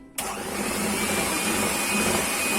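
An electric mixer whirs on abruptly while whisking soufflé batter, holding a steady, close, buzzing drone for a couple of seconds.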